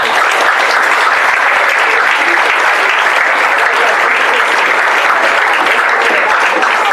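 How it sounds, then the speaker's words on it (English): Student athletes at a boys soccer program banquet give a loud, sustained round of applause for their coaches and staff, dense even clapping filling the room for about seven seconds without a break. "give them one more round of applause"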